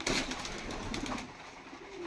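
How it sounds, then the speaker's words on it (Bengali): Hungry pigeons restless while waiting to be fed, cooing and fluttering with a steady clamour of close calls and shuffling noise throughout. "দেখেন ছটফট করতেছে কবুতর খাবার জন্য"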